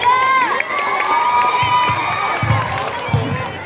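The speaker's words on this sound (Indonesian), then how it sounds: "Beri tepuk tangan dong buat paslon nomor 3." A school student-council election debate crowd cheers and shouts for the third candidate pair, loud high-pitched youthful yelling that fades into scattered claps and murmuring.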